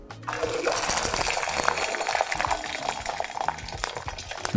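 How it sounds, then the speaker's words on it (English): Molten, liquefied sulfur poured into water, giving a loud continuous hissing, bubbling gush that starts abruptly and carries on at close range. "So now I'm going to pour it in the water."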